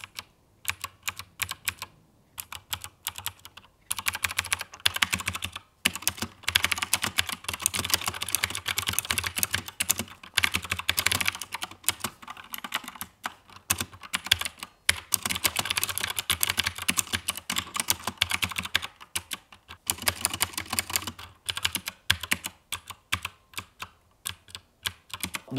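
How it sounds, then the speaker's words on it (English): AZIO luxury keyboard with blue mechanical key switches being typed on, producing continuous close, crisp clicking keystrokes in quick irregular runs with brief pauses, no voices. "You can hear an audible click as you push down on it"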